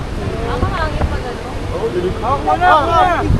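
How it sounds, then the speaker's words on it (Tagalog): Wind buffets the microphone at a beach with a low, steady rumble, while people talk close by over it. "Mahangin."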